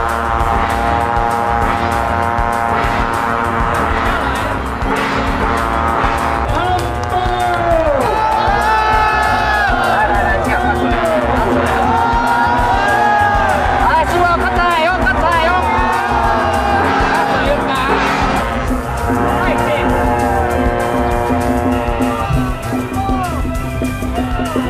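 A huge crowd at the Xiaoliuqiu Welcoming the Royal Lords festival water-fetching rite makes loud, unbroken noise and cheering, with rising and falling tonal sounds woven through the din throughout.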